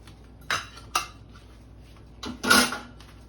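Metal baking pans clatter as baked cakes are lifted out, giving two short clanks and then a longer scraping rattle of metal on metal, with no voices.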